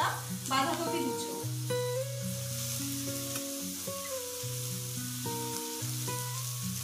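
Shredded cabbage and mixed vegetables stir-frying over high heat for street-style veg noodles, a continuous sizzle under steady background music.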